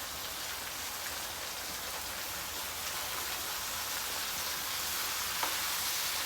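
Broccoli, celery and other vegetables sauté in hot oil with a constant, close, crackling hiss that holds evenly throughout, with no talking.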